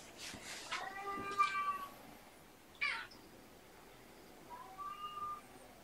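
A deaf cat lets out several loud, drawn-out meows at intervals, close by in a quiet room, with a short burst of noise between the calls.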